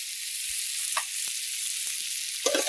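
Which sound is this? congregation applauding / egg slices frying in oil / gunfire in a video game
egg slices frying in oil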